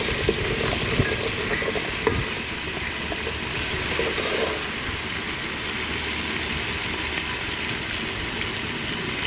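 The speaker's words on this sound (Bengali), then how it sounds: "আদা রসুন বাটাগুলো আর কি ভালো করে একটু কষিয়ে নিই ভালো করে" Spices and ginger-garlic paste fry in a pan for biryani, a steady dense sizzle with occasional stirring scrapes and no talk.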